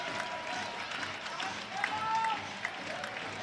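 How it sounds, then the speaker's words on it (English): Crowd applauding at an ice hockey game in an arena, a steady moderate clapping and crowd noise that continues throughout, with faint commentary over it and a couple of sharp knocks. "it's certainly got the crowd applauding already"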